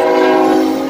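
A loud, close freight train horn on an EMD locomotive blaring in a single sustained blast with rich, steady tones.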